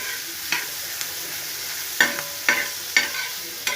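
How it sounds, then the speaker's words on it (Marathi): Capsicum and onion frying in oil, a soft continuous sizzle broken by sharp, regular spatula scrapes and stirs against the pan, close and clear with no talking. "आपण शिमला मिरची, एक कांदा असा व्यवस्थित तेलामध्ये भाजून घेणार आहे"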